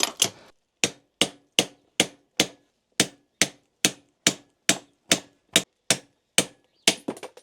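A socket on an extension bar is hammered against the bearing races of an Aprilia Dorsoduro 750 V-twin supermoto: sharp metallic strikes, about fifteen of them, coming at a steady rhythm, close and loud with brief ringing after each.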